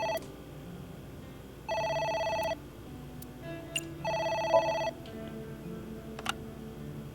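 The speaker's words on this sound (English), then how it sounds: "It's the phone" A phone rings in the video game AI: The Somnium Files, two clear electronic ring bursts separated by a pause, over quiet background game sounds with a few faint clicks.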